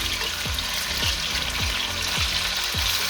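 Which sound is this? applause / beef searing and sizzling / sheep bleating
beef searing and sizzling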